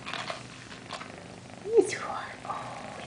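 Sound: cat purring

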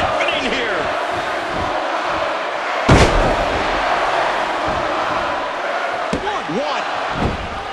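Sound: crowd cheering in WWE 2K14 video game

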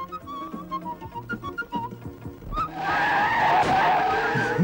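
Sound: truck skidding before a crash

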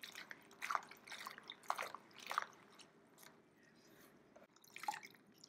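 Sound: sliced leeks washed in a cold water bath

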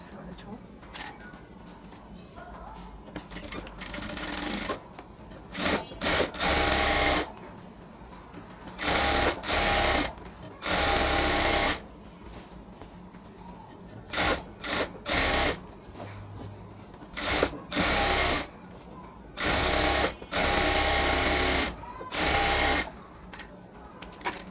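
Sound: sewing machine stitching a ladies' pant leg

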